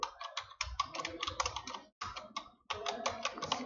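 Steady, rapid typing on a computer keyboard while entering text into a Visual Basic program, a near continuous clatter of keystrokes with two brief pauses, close up and alone.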